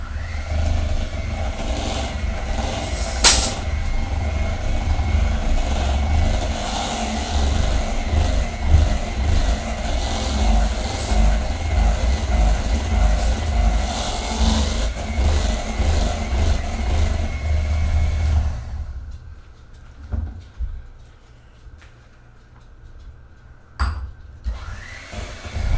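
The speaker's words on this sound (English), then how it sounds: "This hand mixer is about 40 years old, so we gotta give it a little time." A roughly 40-year-old electric hand mixer whirs steadily in cream-cheese batter for a s'mores cheesecake, a loud buzzing drone with rattling that runs for most of the stretch before cutting off, leaving quieter clinks.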